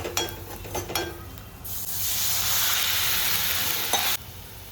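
Stirring clatter gives way to a sudden loud sizzle as about two glasses of water hit masala frying in hot oil, hissing steadily for a couple of seconds before cutting off.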